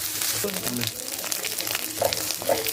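Ginger and garlic paste fries in a pan with a steady, close sizzle throughout, broken by a few clacks of stirring.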